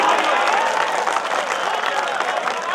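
Audience clapping at a Hindi-Urdu poetry recital, a dense, loud burst of applause from a large crowd, sustained evenly throughout.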